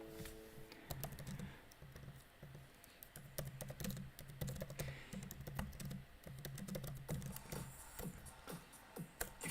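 Rapid, irregular clicks of fingers typing on a computer keyboard during a live-streamed online poker tournament night, steady and close, with a low hum underneath.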